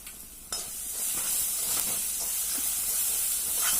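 A green chili, ginger and garlic paste sizzles in hot oil with turmeric and a pinch of hing as filling for Mumbai-style vada pav, a loud steady frying hiss that jumps up sharply and keeps crackling close by.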